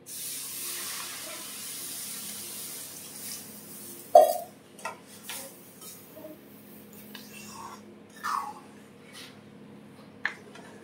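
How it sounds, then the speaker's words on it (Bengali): Water poured into a pot of semolina cooked with milk and ghee gives a steady close hiss for about four seconds, followed by scattered clinks and scrapes of stirring. "এখন আমি জল দিয়ে দেব।"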